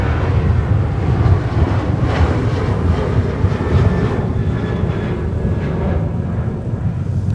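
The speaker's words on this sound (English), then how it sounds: "Delta 737 900 ER getting airborne." Delta Boeing 737-900ER jet taking off in winter at Minneapolis airport: a loud, steady broadband engine roar with a low rumble, sustained throughout the clip with no voices.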